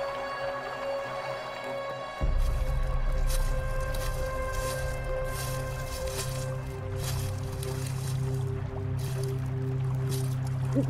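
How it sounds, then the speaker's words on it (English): Creek water flows and trickles steadily, a close, continuous wet wash with squishy drips, starting after a quieter opening and continuing through to the end. "Ah, a creek."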